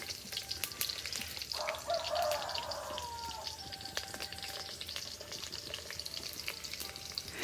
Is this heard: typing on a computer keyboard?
no